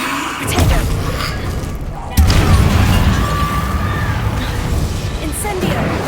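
A Confringo blasting spell in Hogwarts Legacy bursts with a sharp boom, then a sustained rumbling blast, while a voice calls out over the effects.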